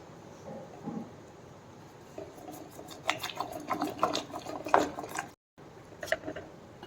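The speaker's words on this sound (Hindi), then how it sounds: "अब हम कुकर को खोल लेते हैं और दाल को अच्छे से मथ लेंगे" Repeated scraping and clacking of a utensil stirring and mashing cooked lentils in a metal pressure cooker, irregular and close, with a brief silent gap near the end.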